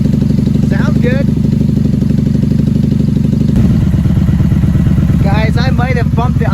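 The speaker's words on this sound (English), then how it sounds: "She's idling perfectly with the choke off." A 1994 Honda Magna motorcycle engine idles steadily up close with the choke off, a loud, even throb, while people talk briefly over it.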